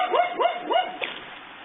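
Dogs in downtown Rogers, Arkansas give three close, evenly spaced barks in quick succession, followed by a fainter fourth yelp and a quiet tail of background hiss.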